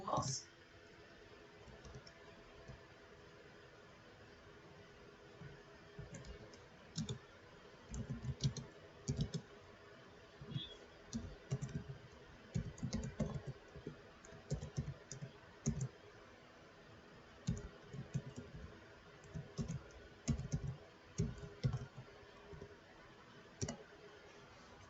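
Code typed on a computer keyboard in bursts of close, soft key clicks separated by pauses, with faint low talk underneath.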